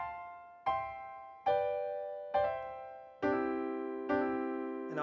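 Piano notes in a slip-note style pick out a melody slowly. Six struck notes and chords each ring and fade, sounding close and clear with no voice over them.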